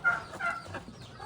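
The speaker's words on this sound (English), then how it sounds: "And then 3 hen silver phoenix chickens." Silver Phoenix hens on a hobby farm give a short burst of soft, close clucking lasting about a second.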